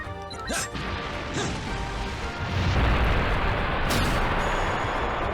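Fire slash attack in the Makai Kingdom video game, dense crashing impacts and booming, fiery roar layered with sharp whooshes, loud and continuous with a swell in the middle.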